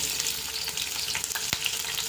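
Green chillies sizzle in about 50 grams of hot oil for pepper chicken, a steady close crackle with a brief sharp pop partway through.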